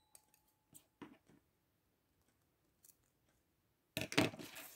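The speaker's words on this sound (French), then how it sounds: "Je vais venir la couper parce que sinon ça va pas faire beau." Paper being trimmed with scissors while making a recycled scrap pencil craft: a few quiet scattered snips and blade clicks, then a louder, longer crisp cut near the end, with no talk.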